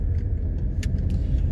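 Steady low engine rumble inside a car idling at traffic lights, a continuous muffled hum with a few faint clicks and rattles in the cabin, no voices.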